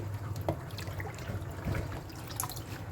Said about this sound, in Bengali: পালং শাকটি বেছে নিয়ে ভালো করে ধুয়ে নিতে হবে